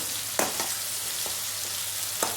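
Chicken pieces for Malabar chicken biryani frying in hot oil, giving a steady close sizzle with a few brief sharper crackles and spatters. No talking.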